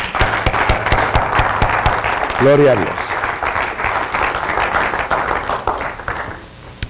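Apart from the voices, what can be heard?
congregation applauding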